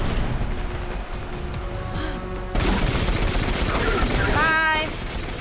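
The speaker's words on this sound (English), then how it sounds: "I keep on hearing guns everywhere." Gunfire in the shooter game Destiny 2: sustained rapid automatic fire with bursts crackling throughout, growing louder midway, with a brief electronic whine near the end.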